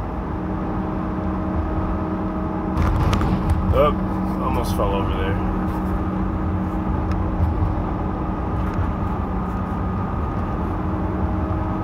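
A worn rear differential on a 2011 GMC van with 134,000 miles sounds as a steady, loud drone and whine under the road noise while driving, with someone speaking briefly partway through.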